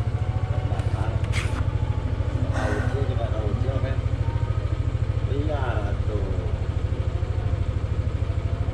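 A motorcycle engine idles close by with a loud, steady low chugging pulse throughout, while several people talk over it.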